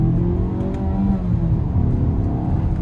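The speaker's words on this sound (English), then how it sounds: "A little bit of a slow upshift there." Engine of a 2022 Mazda CX-5 Turbo revving steadily with a low rumbling drone and slight pitch shifts through a slow upshift, heard from inside the car with no talking.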